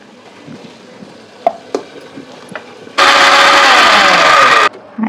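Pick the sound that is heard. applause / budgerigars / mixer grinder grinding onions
mixer grinder grinding onions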